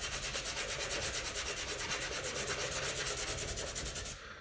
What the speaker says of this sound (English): with this particular sandpaper, I am mainly just looking at just roughing it up a bit, cleaning it up a little bit